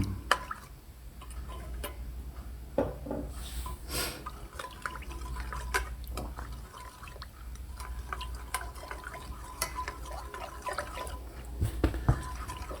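Tamarind water for a Thai glass-noodle salad is poured, heard as scattered light drips and small ticking splashes, close and soft, with a low background hum throughout.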